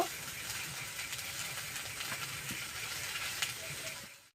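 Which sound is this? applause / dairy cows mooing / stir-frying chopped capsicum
stir-frying chopped capsicum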